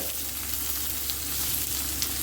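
Chopped ginger, green chili and onion sautéing in a pan give a steady, close sizzling hiss with faint stirring clicks throughout.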